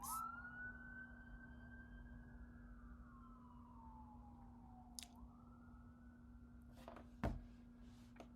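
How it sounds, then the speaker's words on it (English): Emergency vehicle siren wailing outside, a single long rising and falling tone that sweeps slowly up and down, steady and moderately distant, with a few brief knocks and clicks nearby and no talking. "what is these sirens for? Because I've been going all day without sirens"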